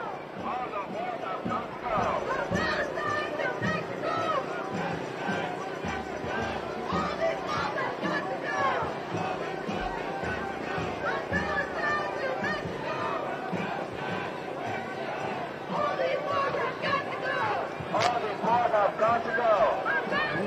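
Large crowd of marchers at a protest march on the Republican National Convention in Milwaukee passing close by, a dense continuous babble of many voices with shouts and chanting rising over steady ambient noise.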